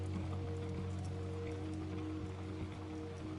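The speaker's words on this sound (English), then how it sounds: "that soft, constant music. Rain on water." Soft rain falling on lake water, a faint, even patter that runs steadily without a break over a low background hum, with no one speaking.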